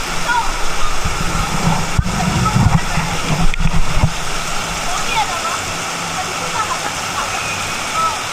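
Water pours and splashes steadily at a water park play structure with buckets and water cannons, a constant rushing wash under excited talk.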